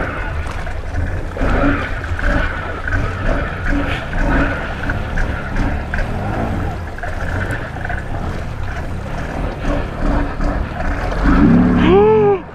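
A Can-Am Outlander four-wheeler bogs down in deep mud, its engine droning loud and close amid constant sloshing and churning water, swelling toward the end.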